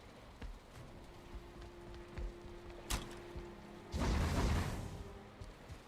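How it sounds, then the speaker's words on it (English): Rain in a video game falls as a soft, steady hiss, swelling into a louder wash of rainfall for a couple of seconds near the end, with no voices. "I don't like that it's raining."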